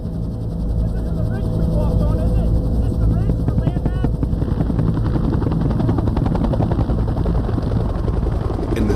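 Military helicopters fly troops into a landing zone during the Vietnam War, heard as a loud, steady rotor thump with rapid chopping pulses throughout, and a voice speaks over the noise.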